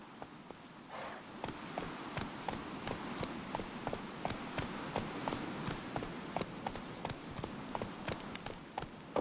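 Roach the horse gallops in The Witcher 3 video game, with a steady rapid clatter of hooves beating out a quick rhythm over a continuous low background rumble, close and fairly loud throughout.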